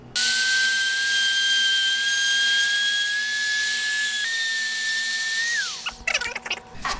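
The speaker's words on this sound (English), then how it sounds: "So the Dremel I got came with this little sand bit." Dremel rotary tool with a small sanding bit grinding down the plastic edges of a BMW E46 custom headlight housing, a steady high-pitched whine held close for about six seconds, dipping slightly before winding down, then brief handling clatter.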